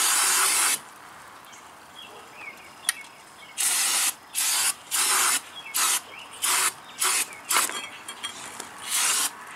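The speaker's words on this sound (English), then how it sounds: "spray it down with brake clean because your shoes never see the light of day" Brake cleaner sprayed onto the drum brake shoes of a Volvo 240, heard as a series of about ten close, loud hissing bursts of varying length separated by short pauses, with no talking.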